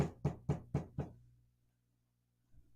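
Four firm knocks on a wall come in an even, quick rhythm, close and loud, then a short silence and a faint soft bump.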